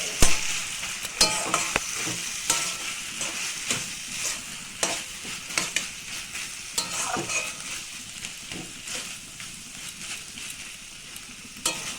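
Sesame paste stir-fried with drumsticks in a pan, close, frequent scraping and clacking of a spatula over a continuous sizzle, loud and irregular throughout.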